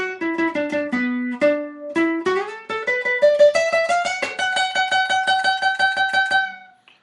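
Solo guitar riff from a song, clear picked notes in a steady repeating pattern, rising to a high bent note picked many times, then ringing out and fading at the end.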